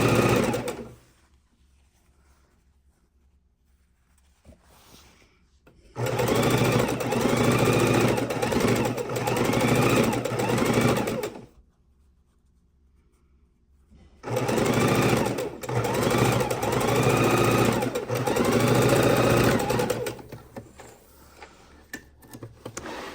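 A domestic sewing machine stitches quilt seams for a simple four-fabric quilt top in two long loud runs, each about five seconds, separated by quiet pauses with no talking.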